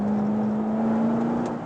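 A powerful car engine runs steadily and loud up close, with a sustained drone and a clear, constant tone held throughout, with no talk over it.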